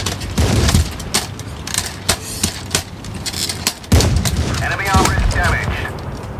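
Rapid bursts of gunfire from a gun mounted on a car in a video game, sharp repeated cracks and booms in quick clusters with mechanical clatter, loud and close under game sounds.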